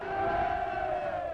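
A street crowd of protesters in the March 1st independence movement roars together in one sustained, loud mass of voices that holds steady from start to finish.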